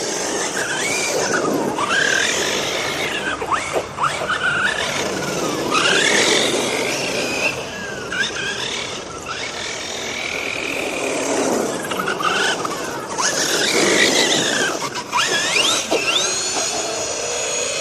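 A small RC car drifts and spins in full circles and figure eights on a wet floor, its high-pitched electric motor whining up and down in loud sweeping bursts throughout, with tire squeal mixed in.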